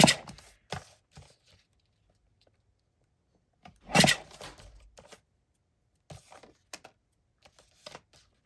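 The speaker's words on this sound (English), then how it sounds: "I may as well corner cut these" Cardstock cards go through a corner cutter in a series of sharp clicks and crunchy snips, a few clustered bursts separated by quiet gaps, close and dry.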